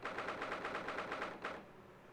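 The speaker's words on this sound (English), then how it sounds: "I don't know why the typing sounds like freaking gunshots." A rapid series of clicky, percussive ticks from The Great Ace Attorney Chronicles rattles off evenly like game text being typed out, then stops abruptly.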